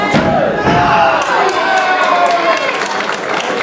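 A wrestling crowd at a free event chants loudly in unison against a wrestler named Hawke, a dense roaring wall of voices with rhythmic shouted syllables and some clapping throughout.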